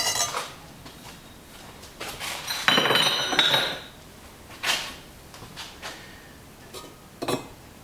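Ceramic bisque ware and kiln props clink and knock as a kiln is unpacked, with scattered clatters and a brighter jangle of pieces, close by and spaced by quiet gaps.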